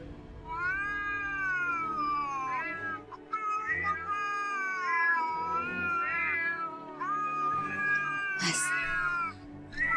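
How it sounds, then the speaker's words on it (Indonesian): A cat meows loudly and close by in long, drawn-out, wavering cries, almost caterwauling, repeated several times over the stretch with short gaps between calls. "Mudah-mudahan aja kucing itu segera datang."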